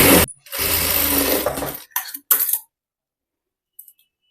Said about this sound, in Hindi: अब यहाँ पे मैं डबल सिलाई लगाऊंगी।